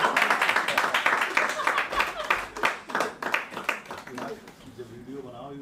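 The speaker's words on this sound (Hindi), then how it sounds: "तालियां वाली बजाइए।" Audience at a Hindi poetry gathering in Ahmedabad clapping for the chief guest, a loud, dense burst of many hands that thins into scattered claps and fades out near the end.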